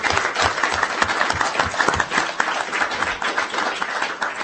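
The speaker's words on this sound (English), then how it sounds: "Let's give you a big round of applause." An audience at a school district board of trustees meeting applauds a student award winner. The clapping is steady, dense and moderately loud across the whole stretch and carries no voices.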